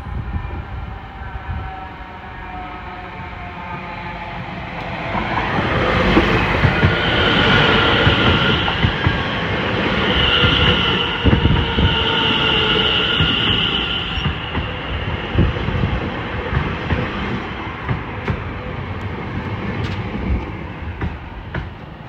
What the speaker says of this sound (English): Another 720 again. And here's the 1428. It's arriving now.